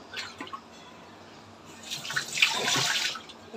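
Freshly cut fish gets rinsed under running tap water, with splashing and gushing that swells and fades as the pieces are handled close by, no voices.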